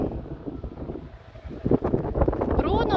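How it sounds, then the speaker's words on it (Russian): Strong outdoor wind gusts buffet the microphone on a cold autumn dog walk, a rough low rumble that swells louder in the second half while someone talks over it. "Когда нет порыва ветра сильного, то вообще замечательно."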